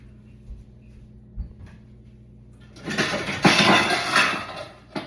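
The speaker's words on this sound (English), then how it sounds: "I should have got a smaller pan. And I might go do that right now." Someone fetches a smaller pan from a kitchen cupboard while cooking homemade meatballs: quiet at first, then a few seconds of close, loud clattering and rattling of cookware, tapering off at the end.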